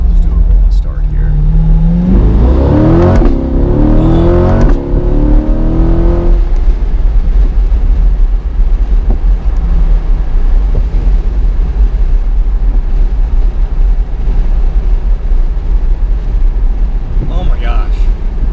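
A 2020 Corvette C8, still in its 500-mile break-in, pulls at full throttle from a rolling start, the engine note climbing steeply through the first seconds before settling into a steady loud road drone with cabin rumble.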